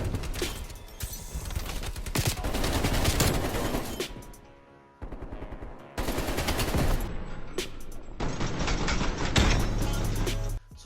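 Bursts of rapid automatic gunfire in Call of Duty Cold War, fired through a wall, come in loud sustained volleys with short pauses between them and no voices.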